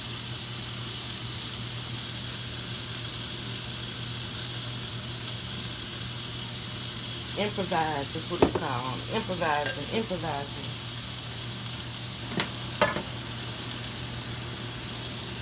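Ground beef sizzles and fries in a pan with jarred salsa added, giving a steady hiss with occasional stirring scrapes and a brief spoken remark partway through.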